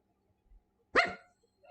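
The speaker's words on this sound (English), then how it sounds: "we got some woofing going on" A single dog bark, one short sharp woof at moderate distance with a faint soft sound just before it, then quiet.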